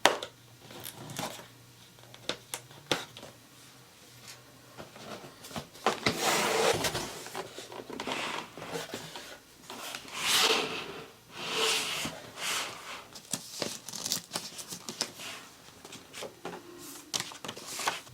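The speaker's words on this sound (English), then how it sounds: "So I'm going to go ahead and unbox it. I believe there is one tape here." A Dyson Airwrap multi-styler Complete Long box in Vinca Blue and Rosé is unboxed by hand. Tape is peeled and packaging pulled out, making close, uneven crinkles, rips and soft knocks with brief pauses and no talking.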